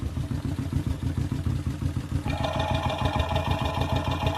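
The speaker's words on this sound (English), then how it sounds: "we're going to hear the hot gases moving through it, resounding in the chambers of the muffler" Close, muffled low throbbing of an idling motorcycle exhaust pulses in a steady rhythm, with a thin high whine joining halfway through.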